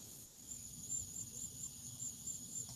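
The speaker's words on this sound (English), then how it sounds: "By the way, what you hear on my mom's screen are cicadas." Cicadas buzz in a steady, high, faint drone heard through a computer call, with a continuous shimmering texture and no voices.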